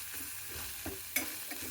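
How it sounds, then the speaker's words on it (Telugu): Spice masala with a spoonful of coriander seeds frying in a pan for bitter gourd (kakarakaya) curry, giving a steady close sizzle broken by a few soft scraping stirs and one sharper clink. "ఒక స్పూన్ ధనియాలు, వేసి బాగా మసాలాలంతా ఇగవ్వాలండి."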